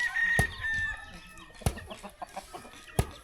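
Chickens cluck in a forest village in Laos. Close, loud clucks and short squawks come in uneven bursts, with sharp knocks in the background and no speech.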